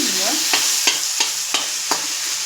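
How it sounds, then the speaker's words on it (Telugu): Ivy gourd frying in a pan, with a steady bright sizzle throughout and several sharp scraping stirs roughly every third of a second to half second, close and loud with no talking. "ఇక దొండకాయ కూడా ఫ్రై అవుతుంది"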